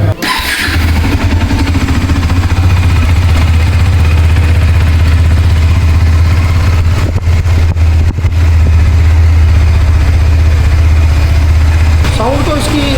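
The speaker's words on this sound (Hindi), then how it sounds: "मैं आपको इसके इंजन की आवाज़ सुना देता हूँ।" A Bajaj Dominar 400 motorcycle engine idles loud and close with a steady low throbbing hum, a brief blip partway through and a small rise near the end.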